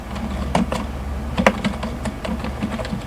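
Someone types HTML code on a computer keyboard, a close run of irregular key clicks with a few sharper presses over a low background hum, no speech.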